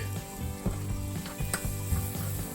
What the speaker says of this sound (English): I'm gonna add a little bit of butter to my pan, this little pan right here, and I'm gonna get a little bit of garlic